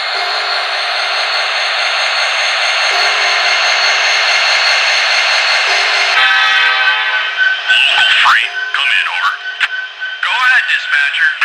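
An MTH HO-scale Missouri Pacific Heritage model locomotive in a freight yard, sounding a loud steady horn-like drone that breaks into choppy radio-style chatter and clanks in the second half.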